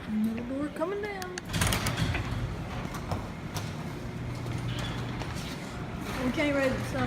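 A heavy overhead door rolls down during a Triumph C7000 lift installation in a garage, giving a grinding, rumbling slide with clanks and a steady hum, while voices talk at the start and end.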